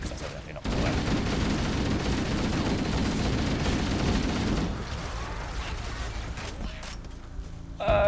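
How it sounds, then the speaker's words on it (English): Gunfire from the Halo video game with a sniper rifle in hand, a dense continuous barrage of shots and booms filling several seconds at steady loudness before thinning out, with faint game voices underneath. "Halo sniper rifle. Okay, right, so we'll need to get this lined up. And then I guess shoot."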